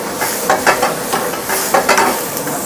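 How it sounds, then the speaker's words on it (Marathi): Onion and tomato are sautéed in a hotel kitchen pan, a loud close sizzle punctuated by repeated scraping stirs that come in short bursts. "आपण कांदा टाकून घ्यायचा नंतर टॅमॅटो चांगला असं परतून घ्यायचं"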